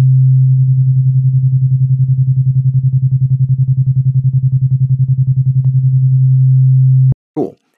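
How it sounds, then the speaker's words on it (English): A steady low electronic sine tone hums alone for about seven seconds, pulsing slightly, then stops, followed by a brief sharp click. "just a constant sine wave so you could hear what it does"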